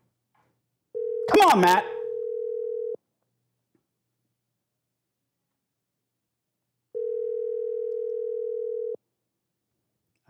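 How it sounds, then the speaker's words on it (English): A telephone ringback tone sounds on a call: a steady, loud two-second tone, a four-second silence, then a second identical tone. Someone speaks briefly over the start of the first tone. "The phone's ringing."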